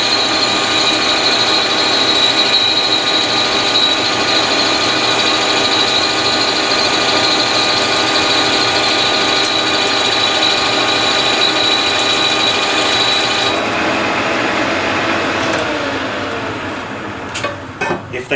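A Bridgeport milling machine cuts aluminum in a steady, loud, continuous whine with a high tonal ring, sending chips flying, then winds down over the last few seconds with a few clicks.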